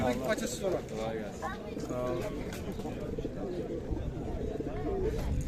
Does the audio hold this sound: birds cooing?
yes